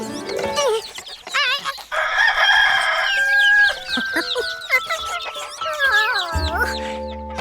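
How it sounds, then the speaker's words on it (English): A cartoon rooster on a farm crows loudly in long, wavering cock-a-doodle-doo calls with some clucking mixed in, close and clear with nothing else over it. "We just have the one rooster."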